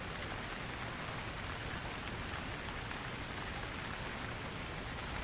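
Light rain falls steadily, a continuous soft hiss of drops on surfaces with no breaks, even and fairly quiet throughout.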